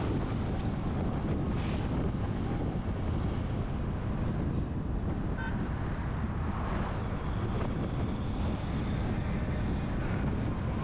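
A motorbike rides through the streets of Accra at night on New Year's Eve, with constant heavy wind buffeting the microphone and a low engine rumble, loud and unbroken throughout.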